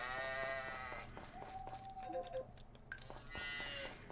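Sheep in the Story of Seasons farming video game give a few wavering bleats, near and clear, with other game livestock sounds and a brief pause between calls.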